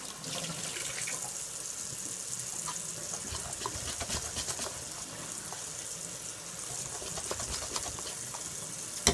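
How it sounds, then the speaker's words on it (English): Milk pours into a Mexican cornbread casserole mix, a steady liquid splashing and gurgling rush that runs without break for several seconds, near and moderately loud, with no talking. "I'll drop some milk here."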